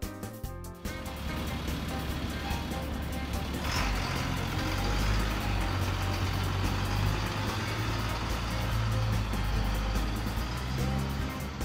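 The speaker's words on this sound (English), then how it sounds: "garbage truck," A garbage truck engine runs with a steady low rumble and grinding machinery, with a reversing beep near the start, continuous and fairly loud throughout.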